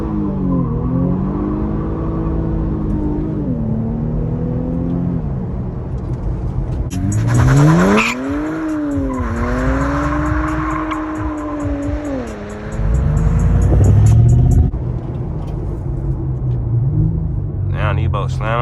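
A twin-turbo Infiniti Q50 launches hard from a standstill, its close, loud engine note climbing in pitch through the pull, with someone talking over the rising roar.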